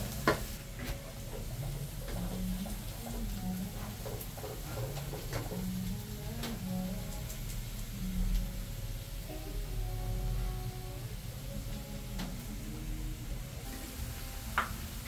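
Shrimp, onion and garlic sizzle in a pan, a low steady frying hiss with occasional stirring clatter and utensil clicks, fairly quiet and continuous throughout.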